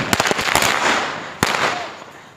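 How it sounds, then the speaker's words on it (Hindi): Fireworks and firecrackers going off at a Diwali celebration in Bihar, with a rapid volley of sharp close bangs at the start, a rushing roar in between, and one more loud crack near the end. "ये लोग आतिशबाजी कर रहे हैं"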